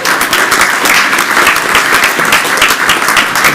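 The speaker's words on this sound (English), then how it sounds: "a round of applause" A round of applause fills a town council meeting, dense steady clapping from the people in the chamber, loud and sustained throughout with no talking over it.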